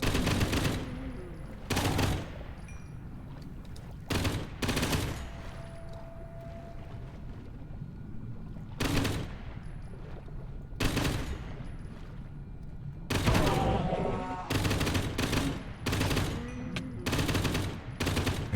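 Gunfire bursts ring out in the video game Minecraft Prehistoric World, loud rapid volleys repeating in clusters across the stretch, broken by quieter gaps.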